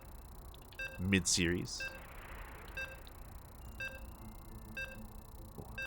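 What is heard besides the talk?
StarCraft II video game beeps before loading into game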